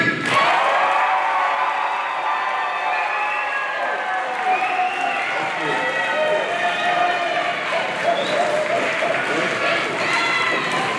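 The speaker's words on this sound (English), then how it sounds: "I want to hear the loudest clapping and congratulation noises that you can make" A graduation crowd bursts into loud clapping and cheering on cue, with whoops and shouted voices over a dense wash of applause that holds strong from start to finish.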